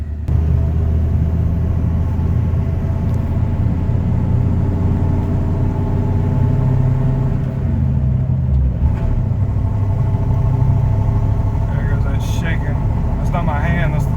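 A 1988 Ford F-150 with the 5.0 engine, running poorly while being driven, gives a loud, steady, close low engine rumble with road noise. It continues throughout with no clear breaks.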